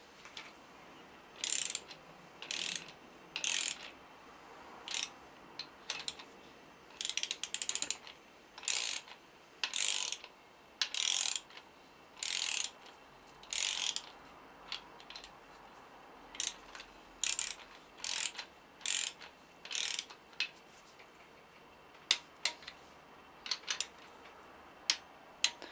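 Ratchet wrench tightening crankshaft main bearing bolts to torque on a BMW E46 engine: bursts of rapid dry clicking in repeated short strokes with pauses between, close and crisp in a quiet workshop.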